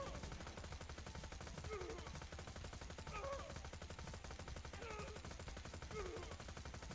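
Steady, rapid automatic gunfire in Borderlands 2 aimed at a DLC boss's helmet, a continuous rattling stream of shots at moderate level, with occasional higher in-game effect sounds over it.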